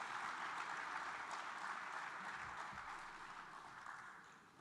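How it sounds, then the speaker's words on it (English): Faint, distant applause from a corporate forum audience, continuous soft clapping that gradually fades toward the end, with a couple of low bumps midway. "Please keep the applause going"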